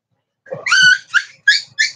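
A puppy whimpers in a short series of high, whiny cries: one longer drawn-out whine followed by three brief yelps, close and fairly loud with no talking.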